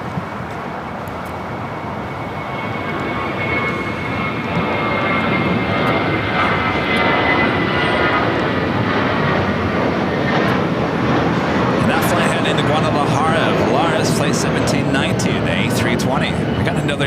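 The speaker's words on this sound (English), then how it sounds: "Dreamliner heading to 25 right, flight 39, heading to Tokyo Haneda, 787-10 Dreamliner" A Boeing 787-10 Dreamliner jet at LAX roars loudly and steadily, its engine rumble building over the first few seconds and then holding at a sustained, close, broad-band level throughout.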